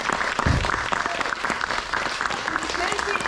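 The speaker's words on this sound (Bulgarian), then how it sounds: "Аплодисменти за Ирен." Audience at a children's theatre school performance claps steadily in a clear burst of applause, close and lively, with voices mixed in among the crowd.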